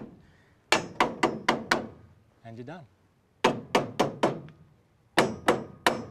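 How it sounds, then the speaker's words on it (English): Two bursts of sharp, rhythmic soft-mallet taps driving a part into place on steel chassis rails, five or six blows each, close and loud, with a brief spoken phrase between them. "give it a little gentle persuasion with a soft mallet"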